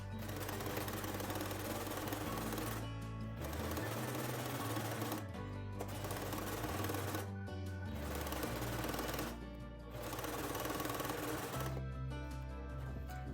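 Domestic sewing machine stitching a dress seam, running in loud continuous bursts of rapid mechanical whirring separated by brief pauses, close and alone without talk.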